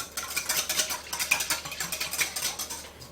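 A utensil stirs buttermilk and vanilla together in a bowl with quick, repeated clinking and sloshing scrapes, close and fairly loud, with an irregular rhythm and no one talking.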